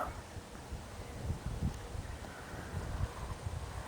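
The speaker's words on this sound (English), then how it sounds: "it's getting way too windy out here to film" Steady gusting wind buffets outdoors, a low rumbling rush with no voices, rising and falling slightly throughout.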